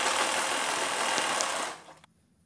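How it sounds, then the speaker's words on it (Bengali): A sewing machine stitches the side seam of a bra-cut blouse with a steady, close whirring hum that runs continuously, then slows and stops with a small click. "পরের সাইডটাও আমি ওইরকমভাবে সেলাই করে নিচ্ছি পুরোটা"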